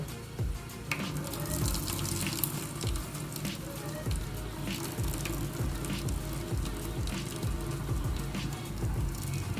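Pasta cooking water for carbonara is poured out of a pot into a sink, giving a continuous close splashing gush with no pause across the whole stretch.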